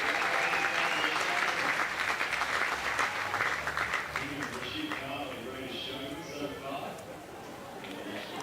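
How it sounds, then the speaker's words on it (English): Stadium crowd at the Australian track and field championships cheering and applauding a runner, loud sustained clapping and roar that gradually eases off, with a commentator talking over it. "Soaking up the support from the crowd."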